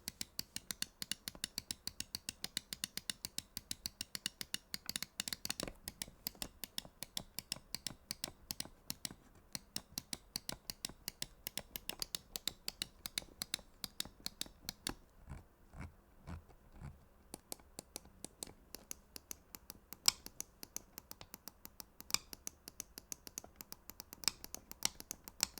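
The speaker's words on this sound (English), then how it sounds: "let's drop a sound test of the Viper V3 Pro and see what it sounds like" Rapid, close, crisp mouse button clicks on a Razer Viper V3 Pro, tapped in fast irregular bursts and single presses with short pauses between.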